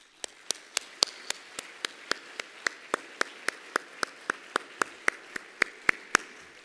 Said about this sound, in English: Let's have a warm round of applause for all contestants